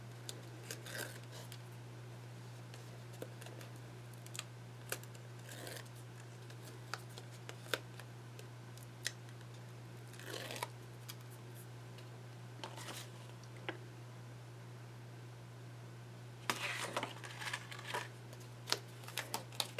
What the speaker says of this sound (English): just go ahead and peel off the backing strips